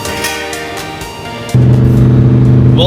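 A rebuilt, previously wrecked Lamborghini Huracan on a test drive, its engine note loud and close, with a steady droning tone that jumps up abruptly midway as the revs rise, then holds.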